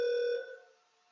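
A softphone rings once with an incoming call placed by a Lua FreeSWITCH script, a clear electronic tone that holds briefly and then fades out.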